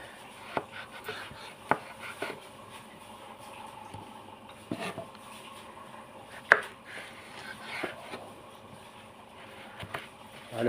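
Fresh food being chopped for a pet rabbit, a series of sharp knife-on-board cuts at an irregular rhythm, close and clear over a quiet background with a few louder strokes.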